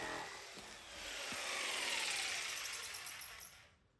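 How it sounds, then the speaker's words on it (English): A jigsaw labors through thick wood, giving a loud, steady broadband buzz with harsh grinding that builds through the middle and fades out near the end, with no talking. "I don't know if it's the saw, the blade, or what, but this jigsaw is really a tool of last resort in my shop"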